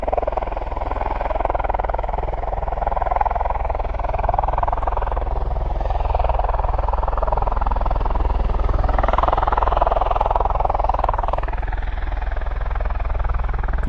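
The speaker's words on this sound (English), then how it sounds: "It's a V-22 Osprey, and based here obviously at RAF Mildenhall" A V-22 Osprey tiltrotor aircraft at RAF Mildenhall gives off a sustained droning rotor hum with a deep low rumble, steady and moderately loud, fluctuating slightly as it holds nearby.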